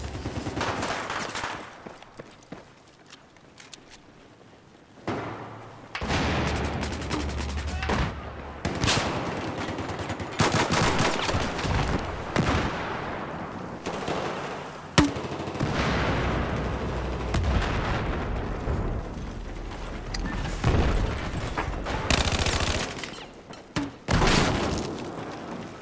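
Rapid bursts of gunfire from a shooter video game, with loud repeated shots and booms spread across the whole stretch, some in quick machine-gun runs and others as single heavy blasts.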